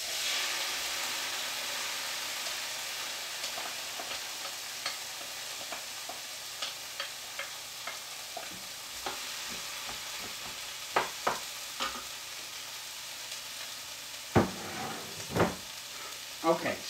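Frozen vegetables sizzle in a hot pan for egg fried rice, a steady quiet frying hiss with scattered crackles and pops growing sharper and louder toward the end.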